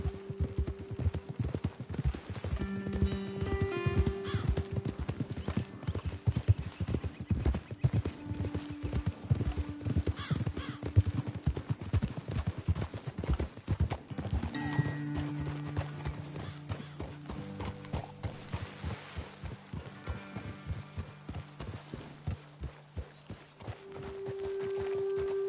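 Horses' hooves clip-clop in a steady rhythmic trot for a long stretch in Red Dead Redemption 2, with an occasional whinny and bursts of music-like tones in the background.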